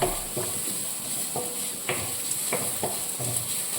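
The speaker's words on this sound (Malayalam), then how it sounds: "ഒരു മീഡിയം സൈസ് സവാള ഞാൻ നന്നായിട്ട് നന്നായിട്ടങ്ങ് ഇളക്കണം" A medium-sized onion stirred while frying in a pan for pakoda curry, soft sizzle underneath several separate scrapes and taps of a spoon against the pan, fairly quiet and without talk.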